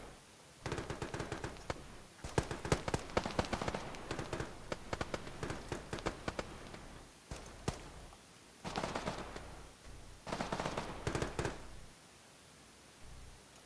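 Rapid bursts of gunfire crackle in long, dense volleys, machine-gun-like and nearly continuous for several seconds at a time, broken by brief pauses, during a squad-based combat game.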